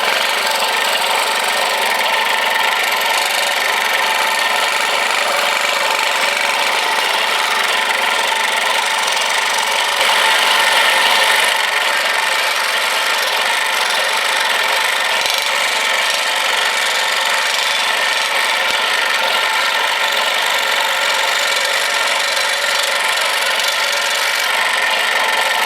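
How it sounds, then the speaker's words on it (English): Scroll saw cutting a freehand wooden jigsaw puzzle, a steady, loud mechanical buzz that runs unbroken and close up throughout with no talk. "I'll show you some footage from me cutting my jigsaw"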